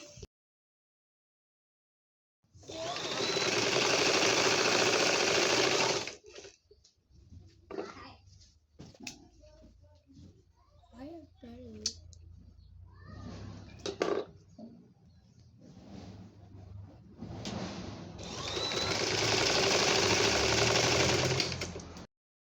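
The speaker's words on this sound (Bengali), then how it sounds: "লেস লাগানো শেষ পুরা জামা সেলাই করানো শেষ" A sewing machine attaches lace to a baby frock, buzzing loudly in a sustained run, then stopping for quieter handling noises and shuffling before a second long stitching run near the end.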